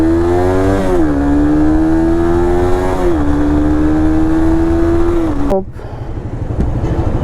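A Suzuki GSX-R sport motorcycle with a Liqui Moly performance pack revs its engine, a strong droning tone that climbs and dips several times before cutting sharply to a lower idle near the end.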